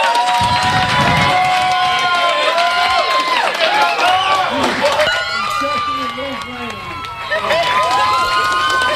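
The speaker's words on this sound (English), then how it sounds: "If we can give a round of applause to Broccoli." A crowd claps and cheers loudly at an Amelia Molloy's Angels grant event, with excited shouting voices, some sounding like children, rising over scattered applause before easing briefly and swelling again.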